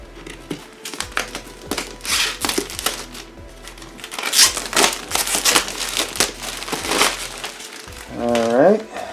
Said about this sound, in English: Take our little plastic off of here.